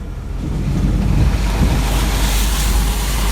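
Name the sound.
Ford Ranger bakkie driving through a river crossing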